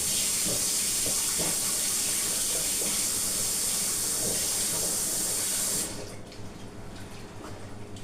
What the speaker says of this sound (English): And I'm going to put some water on this.